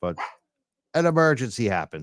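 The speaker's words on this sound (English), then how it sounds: "So we got an extra dog here, and there may be a little barking." A dog indoors in a house gives a quick pair of close barks, then a run of loud, strained barking and yelping that overlaps a man's speech.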